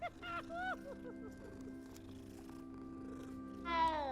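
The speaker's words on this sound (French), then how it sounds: "il est trop beau le chat" A cat in the Hogwarts Legacy video game gives short meowing cries at the start and again near the end, with soft purring between them over steady background game music.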